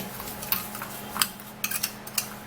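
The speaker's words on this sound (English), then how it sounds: "I'm going to be putting in 2 tablespoons of the sugar into this, and then give it a stir." A spoon stirring sugar into a homemade stretch-mark scrub in a bowl, with light clinks and scrapes against the bowl in irregular bursts, close and fairly quiet, no speech.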